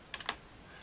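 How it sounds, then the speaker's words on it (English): A few quick clicks from a computer keyboard's delete key being pressed, three close taps in a fraction of a second over a quiet room hum. "Press this delete key on the keyboard"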